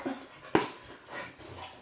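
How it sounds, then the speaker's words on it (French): A pet dog gives a short sharp bark or yelp, then soft whimpering and whining around it, close by and fairly quiet in an indoor room. "ce que vous entendez, c'est mon chien"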